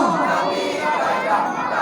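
A crowd at an Eid Milad un Nabi gathering and procession shouts slogans together in a dense, sustained roar of many voices, loud and continuous throughout.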